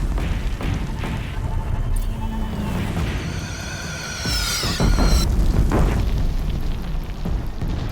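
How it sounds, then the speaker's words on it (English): Cannon blasts and explosions rumble through a chaotic battle in the video game Horizon Zero Dawn, heavy booms and thuds layered over a constant roar of combat noise, with shouting voices in the mix. "Take up a cannon!"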